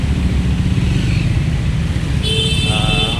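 A Triumph Scrambler 400 motorcycle with a 400 cc engine pulls out to overtake on the road, its engine roaring loudly and continuously amid traffic noise, and a sharp horn-like tone sounds near the end.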